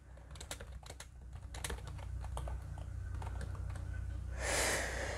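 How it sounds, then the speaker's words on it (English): Quick clicking keystrokes on a Bluetooth keyboard paired with an iPad, a close, irregular run of light taps, ending in a brief louder rustle. "right now it's paired with my iPad, and let's do a little bit of typing"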